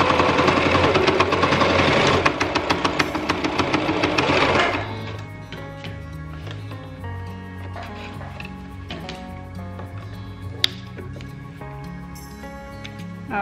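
A sewing machine stitches a three-layer cotton face mask, a loud rapid mechanical rattle for about five seconds, then quieter ticking and clicking as the machine slows and the fabric is handled.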